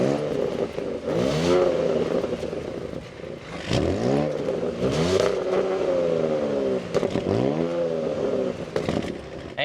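A 2025 Audi S6 or BMW 540i engine starts and then revs repeatedly, each rev swelling and falling away in loud, close sweeps over about ten seconds.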